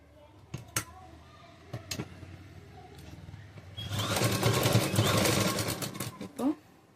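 A sewing machine stitches churidar fabric in a steady, fast mechanical whir lasting about two and a half seconds, preceded by scattered clicks and handling knocks, with someone speaking Tamil around it.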